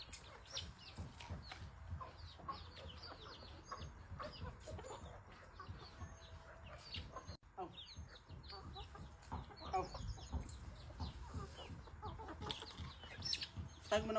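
Chickens cluck and a rooster and hens call repeatedly around a yard at close range, steady busy fowl noise throughout with faint human voices in the background.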